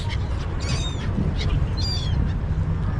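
Birds call near the water by a historic waterfront neighborhood in Dubai while feeding, short honking and squawking cries over a steady outdoor wash of wind and water.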